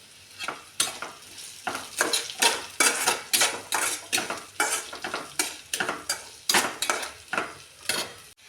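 Onions frying for a brinjal dish while a spoon stirs them in a pot, producing a regular rhythm of loud metallic scrapes and knocks over a soft background sizzle.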